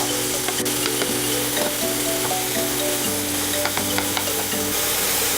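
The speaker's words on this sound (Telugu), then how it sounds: "కొంచెం బ్రౌన్ కలర్లోకి వచ్చేంత వరకు వేయించుకోవాలి దీన్ని." Bottle gourd frying in ghee in a pan for kheer, a steady close sizzle running throughout with occasional stirring scrapes and no talking.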